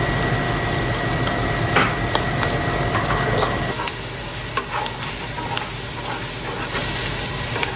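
Onions sizzling loudly in a hot pan while cube steak is cooked, with a steady, dense frying hiss throughout and occasional light clinks, close up.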